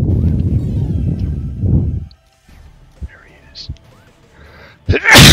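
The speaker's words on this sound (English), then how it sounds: "Sorry for the sneeze on the stream." A single loud sneeze bursts out close to the microphone near the end, after a stretch of low rumbling noise and faint game sounds.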